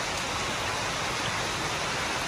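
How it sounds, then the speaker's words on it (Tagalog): Steady rain pours down at a pigeon loft in New Zealand, a dense, even hiss of drops drumming on surfaces with no pauses and no talking. "Ayan, umuulan mga ka-extreme."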